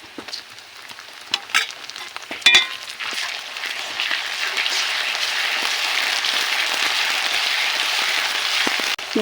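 Garlic paste frying with browned onions in a pan for a mutton curry: a few spoon knocks, then a close, steady crackling sizzle that swells and holds evenly to the end, with no voices.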